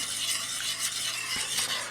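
Cream of tomato soup made from a homemade dry mix being stirred in a pot on the stove, a soft continuous scraping swirl with a faint simmering hiss and an occasional light clink.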